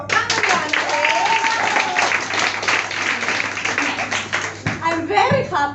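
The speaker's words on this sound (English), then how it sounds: "Applause for Andriana." Sustained audience applause fills a theatre during a newspaper-theatre performance in Greece, dense and loud with steady clapping throughout, while voices and a brief tonal sound rise over the crowd.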